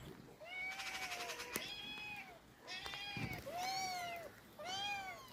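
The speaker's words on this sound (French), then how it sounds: "Vous entendez les chats?" Several cats meow repeatedly, long plaintive overlapping cries at a moderate distance, with brief knocks and clatter between calls.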